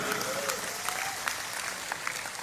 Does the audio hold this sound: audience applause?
yes